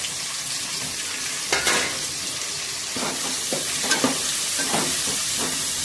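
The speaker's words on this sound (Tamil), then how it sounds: "தக்காளியையும் நல்லா வதக்கி வச்சுக்கோங்க" Tomatoes sautéing with onion and garlic for a stingray fish curry make a continuous close sizzle, broken by several sharp scraping stirs of a spatula against the pan; no one speaks.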